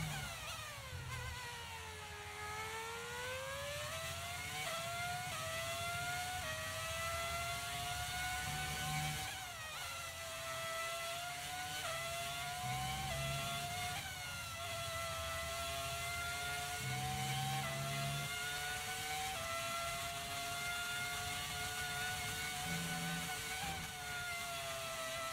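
The Mercedes V12 engine of an F1 car in the video game F1 23 screams at high pitch, rising through the gears in repeated sweeps with quick shifts, loud and continuous.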